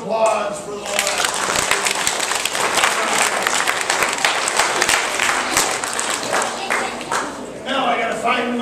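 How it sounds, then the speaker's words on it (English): Theatre audience applauding after a live pirate-themed stage show, a dense, steady wash of clapping and crowd noise that holds strong throughout, with a brief dip near the start and a fresh swell at the end. "one more round of applause for the last."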